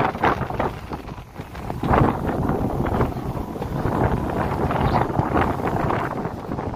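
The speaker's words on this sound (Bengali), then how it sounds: "কিন্তু এদিকে ঝড় শুরু হয়ে গেছে দেখো" Strong storm wind buffets a small fishing boat on open water as rain begins, a loud, rough, continuous roar with gusting surges close to the microphone.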